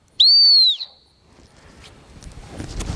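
Gun dog training whistle, one sharp, loud, high-pitched blast lasting about half a second, followed by quiet outdoor rustling and faint movement.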